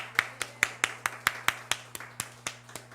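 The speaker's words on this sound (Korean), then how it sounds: "하나님께 영광의 박수를 드리겠습니다." A church congregation claps in praise of God during a sermon, about a dozen distinct, evenly spaced claps in a steady rhythm, clear and fairly close, with a low hum running underneath.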